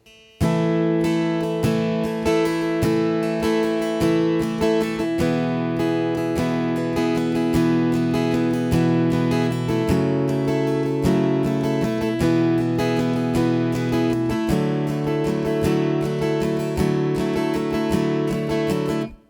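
Acoustic guitar strums the chorus pattern of a song with full chords ringing through steady rhythmic changes, close and clear, with no voices.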